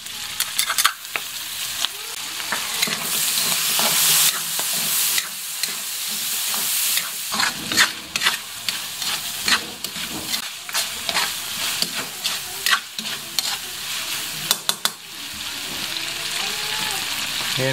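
Onions and tomatoes sauté in a pan while being stirred, giving a steady loud sizzle broken by frequent scraping and clinking of a spatula against the pan, close by with no talking.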